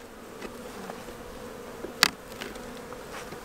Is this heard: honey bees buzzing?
yes